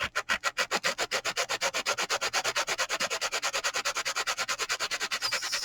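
A dried, glued diamond art cover minder piece being sanded by hand in fast, even back-and-forth strokes, a close, scratchy rasp repeating rhythmically about eight times per second.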